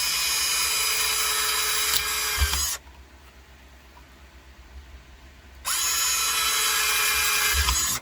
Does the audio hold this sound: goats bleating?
no